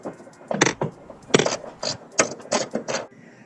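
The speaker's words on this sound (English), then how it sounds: "Going to tighten the 11mm bolts and place the struts." A ratchet tightens 11mm bolts on the bonnet hinges of a BMW E90 M Sport, giving close, brisk bursts of rapid clicking separated by short pauses, with faint handling noise between them.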